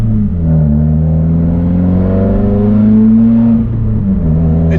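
A 2018 Subaru WRX fitted with a short-throw shifter revs under way, its engine drone climbing steadily in pitch, loud and close from inside the car, then dipping briefly near the end; no speech.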